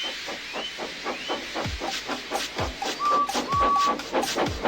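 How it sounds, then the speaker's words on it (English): A small steam engine puffs in a steady rhythm of hissing chuffs, each burst of steam evenly spaced, with a couple of brief whistle-like tones near the end. "So they lit his fire, made lots of steam, and Edward puffed away."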